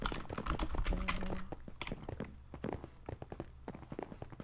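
Rapid tapping on a computer keyboard during a Bedwars game session, starting under a dense burst of game noise and then continuing as distinct, sharp key clicks at an uneven, hurried pace.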